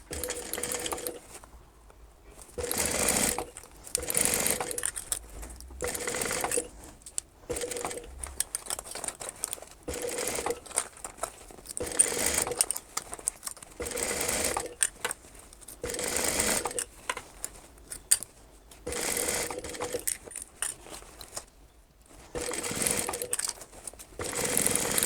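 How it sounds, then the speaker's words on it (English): A sewing machine stitches a lining seam around the top of a fabric book case, running in repeated bursts of rapid stitching with short pauses between them, close and steady. "Now we want to sew along here, right around the top, at the allotted seam allowance."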